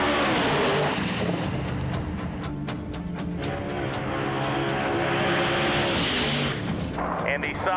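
Blasphemy, a drag race car at Drag Week 2024, rumbles and revs loudly up toward the starting line, its engine roar continuous and close alongside crowd noise, with a voice talking over it.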